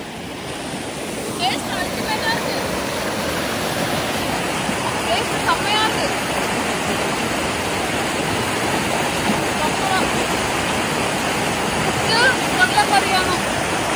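Steady broadband rushing water from a waterfall in Vagamon fills the whole clip, a constant roar of falling water with faint voices and small sounds drifting over it.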